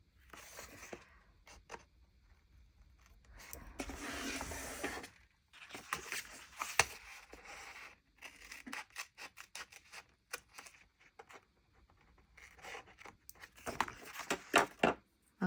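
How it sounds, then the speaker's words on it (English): Scissors snip and trim the rounded corners of journal pages, giving quiet bursts of cutting, paper rustling and rubbing, close up, separated by short pauses. "I usually like to trim the corners right here because the page is rounded."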